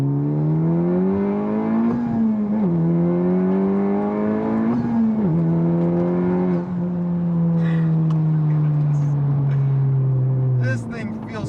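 A Honda Civic Type R engine revs hard through a second-gear pull, its rising tone climbing in stepped surges with brief dips between, loud and close throughout before cutting off abruptly near the end.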